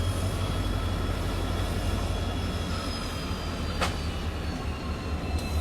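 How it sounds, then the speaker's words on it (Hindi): A Rajdhani Express passenger train rolls around a curve with a steady, deep rumble and rattle of wheels, a brief squeal cutting through near the end. "पूरी ट्रेन दिख रही है अपनी, पूरी राजधानी एक्सप्रेस।"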